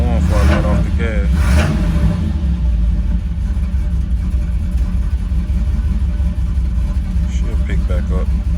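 A small-block Chevy V8 holds a steady loud idle with low rumbling, rising briefly when the throttle is blipped early on, while someone talks over it for much of the time.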